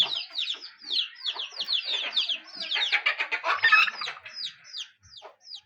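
Chickens cluck and chatter steadily in a farmyard beside a partitioned goat shed, a dense, fairly close run of overlapping calls with no voices.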